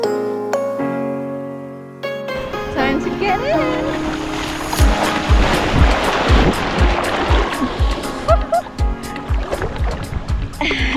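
Waves on Jati Beach in Sumatra washing and splashing in repeated close surges, with people talking over the water.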